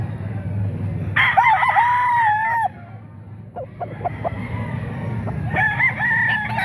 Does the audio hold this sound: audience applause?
no